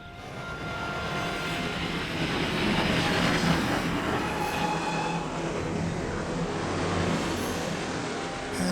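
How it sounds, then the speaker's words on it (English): Train running along the track, a steady loud rumble with continuous broadband clatter and hiss throughout, close and unbroken, with no voices. "Have the conductor stop the train just ahead."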